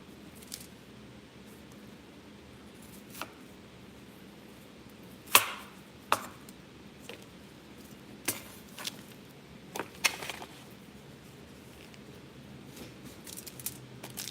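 A knife cuts chicken on a board in a home kitchen for creamy chicken pasta, making sparse, quiet taps and thuds at irregular intervals against a low background hum.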